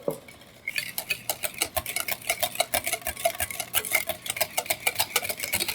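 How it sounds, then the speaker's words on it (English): A utensil stirs blooming onion sauce in a bowl, producing steady, close scraping and clinking strokes in a quick repeating rhythm, with no talking. "let's just stir it all together"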